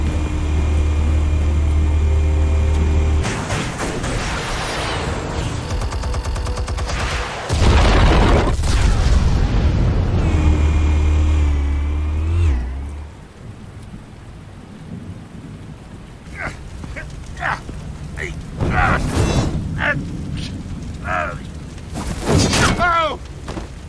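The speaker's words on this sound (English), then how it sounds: "Explosives armed. Fire when ready." Armed explosives detonate in the Batman Telltale Series video game, a long deep rumbling roar with heavy low booms that dies away into debris crackles and scattered impacts, with voices talking over the later part.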